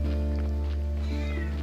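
In-game cat from Graveyard Keeper meows briefly against a constant musical drone, with light background texture and no voices.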